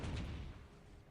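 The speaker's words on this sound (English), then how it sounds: "that poor dude gets one shot by the Demolisher cannon" A Demolisher cannon fires in the Dawn of War strategy game, giving one loud, heavy boom at the start that fades into a rumbling decay.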